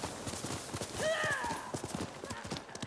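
Horse hooves clip-clopping in a steady walking rhythm in Ghost of Tsushima, close and clear, with a brief whinny-like tone partway through.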